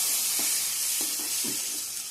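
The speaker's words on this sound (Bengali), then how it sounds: "এখন জল দিয়ে দেবো" Water is poured into a frying Bengali taro and plantain curry, producing a quiet steady hiss and sizzle with a few soft stirring knocks.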